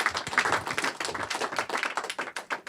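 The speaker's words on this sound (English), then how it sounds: "Clap it up for Darren for sharing that" An audience at a student panel conference claps for a speaker: dense, steady clapping from many hands fills the whole stretch at moderate loudness, with no one talking over it.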